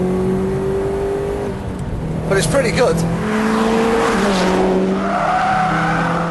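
A Litchfield-modified Subaru Impreza WRX STi accelerating hard in fourth gear from 3,000 rpm on the road, its engine note loud and rising steadily, with someone talking over it partway through.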